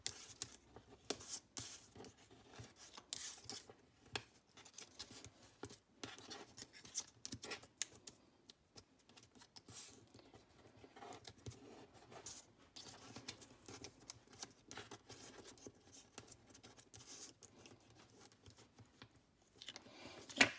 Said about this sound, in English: fold them down with the bone folder